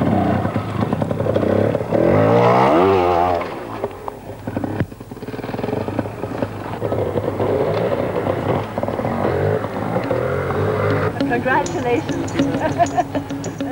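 A trial motorcycle from a 1988 competition, its engine revving and bursting with throttle blips, loud and near, while a commentator talks throughout.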